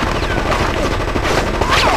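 Burst of sustained automatic gunfire with loud overlapping shots in Conker's Bad Fur Day, dense and continuous over the full stretch, with a brief swell near the end.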